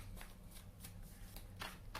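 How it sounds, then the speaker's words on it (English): A deck of tarot cards is hand-shuffled at close range, with soft repeated riffling and slapping bursts in an uneven rhythm over a low steady hum, and no talk. "Look, I'm shuffling."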